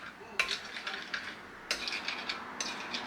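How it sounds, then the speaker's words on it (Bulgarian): A spoon stirs a summer salad in a bowl, producing a few distinct clinking scrapes separated by softer rustling and swishing, close and fairly quiet, with no voices. "Отново разбърквам хубаво."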